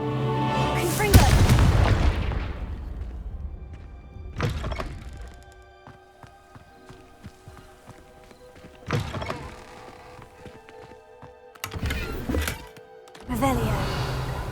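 Confringo fire spell explosions in Hogwarts Legacy, a loud booming blast followed by several more thumping bursts spaced seconds apart, with game music and speech between them.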